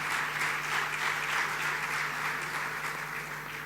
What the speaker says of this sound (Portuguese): E pedia para eles uma salva de palmas